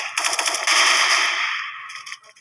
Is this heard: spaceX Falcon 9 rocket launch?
no